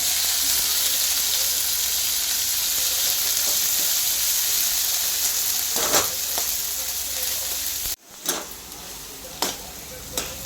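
Masala made from roasted onion and salt fries in a pan with a loud, steady sizzle, broken by a few sharp stirring clatters toward the end.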